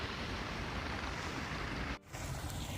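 Steaming water of Hat Creek flows in a steady, even rushing wash, close and constant, with a brief dip near the end and no one speaking.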